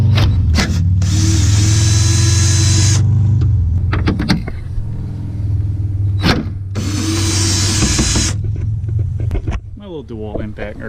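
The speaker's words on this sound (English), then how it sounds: "DeWalt impact or drill works pretty good." Two long bursts of a DeWalt cordless impact driver, each running a few seconds with a steady mechanical whirring hum, separated by short clicks and shuffling nearby.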